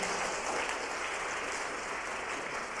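A church congregation claps together at a Sunday service, a dense, even wash of applause sustained throughout without a break.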